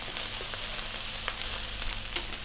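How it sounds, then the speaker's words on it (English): Rice fries in a hot pan over high heat, giving a steady, close crackling sizzle with a few small pops and no talking. "That is your rice frying away."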